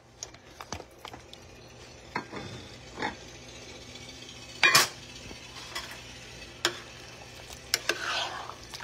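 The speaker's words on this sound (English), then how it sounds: "I'm going to stir the pot, cut my onions" Spoon stirring a cooking pot for a Frito pie, with scattered scrapes and clinks of utensil against metal over a faint background sizzle; brief, moderately close, no talk.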